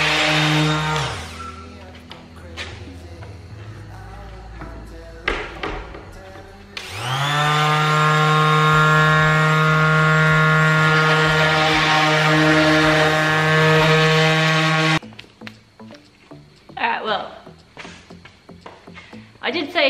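A power sander working on a Nissan 180SX retro project car whines loudly and steadily for about eight seconds, framed by clattering handling noises before and after.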